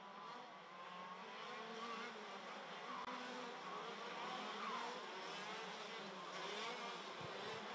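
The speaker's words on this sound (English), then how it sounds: "So, 6-speed shifter carts producing the best part of just around 50 brake horsepower." Six-speed KZ2 gearbox shifter karts of about 50 horsepower race in a Masters prefinal at Genk, their engines a continuous high, buzzing whine that holds steady throughout.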